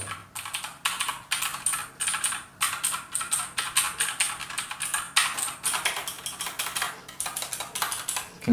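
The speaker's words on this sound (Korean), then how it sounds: "자판 높이도 적당해서 오타도 잘 안 나고 경쾌한 소리도 마음에 들었고요" Fast, continuous typing on an ABKO K640TSLI mechanical keyboard, with crisp clacky keystrokes in rapid bursts heard close and alone.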